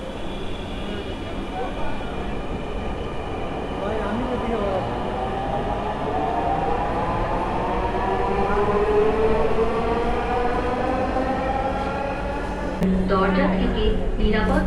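A Dhaka metro rail train pulls into a station, its rising electric whine and rumble building steadily for over twelve seconds before a brief chime and announcement-like tones, with people talking faintly nearby.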